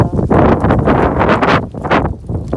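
Strong gusts of wind buffet the microphone outdoors in a flower garden, loud rumbling blasts in irregular surges with brief lulls between them.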